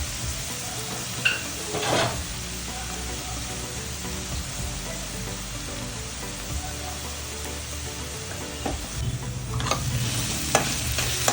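Chopped onion frying and being stirred in a pan for kothimbir (coriander) bhaji, a steady close sizzle with occasional scrapes of the spoon against the pan and no talking.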